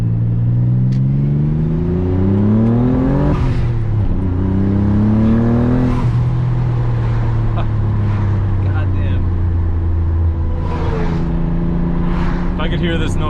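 A Nissan 300ZX Twin Turbo (Z32 Fairlady Z) engine revving hard while driving, loud rising and falling engine tones through the gears, with a man exclaiming briefly over the roar.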